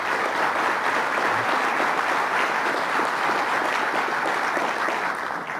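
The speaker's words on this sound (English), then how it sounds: "Let's give them a round of applause." A large audience gives sustained, even applause at a Stony Brook event with Governor Cuomo; the clapping is dense and steady, then tapers slightly at the end.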